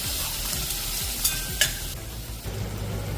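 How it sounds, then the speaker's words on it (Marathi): Onion sizzling and crackling in oil in a wok with scraping stir strokes and a couple of sharp metallic clinks; no speech. "कढईत तेल घालून कांदा लालसर होऊ द्यावा"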